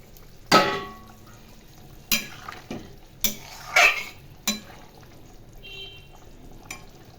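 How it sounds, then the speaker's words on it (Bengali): Pieces of rohu fish go into a pan of potato and eggplant curry. Several sharp clatters and scrapes of a spatula against the pan sound close by, with brief bursts of sizzle and quiet gaps between them. "এখন এর মধ্যে মাছগুলো দিয়ে দেবো"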